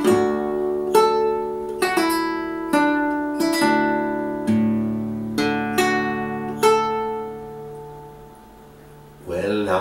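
Fingerstyle acoustic guitar plays the second half of a piece from Lord of the Rings slowly, with distinct plucked notes and ringing chords spaced out and decaying, then a brief pause before a new strum at the end.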